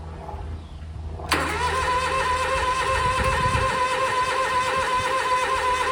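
A Kawasaki engine on a zero-turn mower fires up cold for the first start of the day. It catches abruptly and settles into a steady, close, loud idle that runs without pause.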